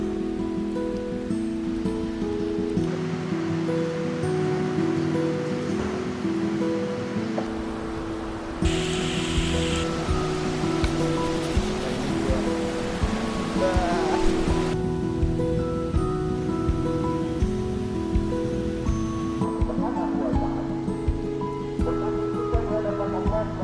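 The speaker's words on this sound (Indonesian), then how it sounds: "sekarang lagi hujan deras banget" Heavy rain pours steadily at a covered shelter at GBK, a broad continuous hiss with no one speaking, the downpour swelling louder in the middle stretch before easing back.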